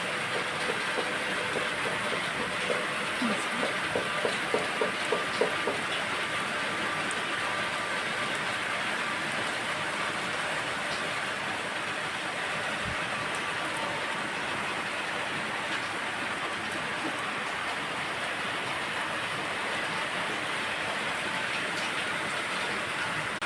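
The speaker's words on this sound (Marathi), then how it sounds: "मस्त असं पाऊस चालू आहे रिमझिम" Morning drizzle of rain falling outdoors, a steady soft hiss of drops that continues evenly throughout, with a few faint clicks early on and no voices.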